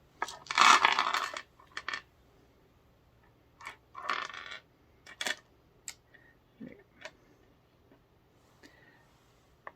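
Several dice clatter and rattle inside a small fabric pouch as it is rummaged through, in short uneven bursts of clicking with quiet pauses between, close and fairly soft.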